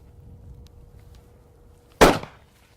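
A single sharp crack from a .243 rifle shot rings out after a quiet stretch of low background noise, followed by a brief decaying echo.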